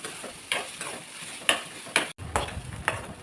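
Finely chopped onion frying in a pan until browned, with a soft steady sizzle and a spatula scraping and tapping at irregular intervals, close and without speech.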